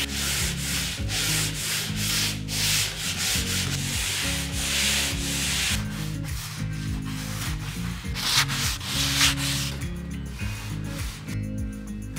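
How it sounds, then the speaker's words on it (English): Sandpaper rubbing over interior walls and a baseboard before painting, rhythmic back-and-forth scraping strokes in a steady pattern, close and fairly quiet, with no voices. "I sanded down the walls and sanded down the baseboard"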